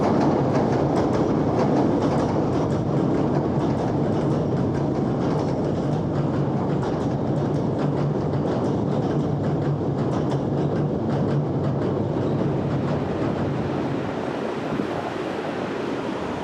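A Hankyu Imazu Line train rumbles past continuously, heard from a bridge, a loud, dense roar with faint rhythmic clatter of wheels on rails that barely changes for the whole stretch.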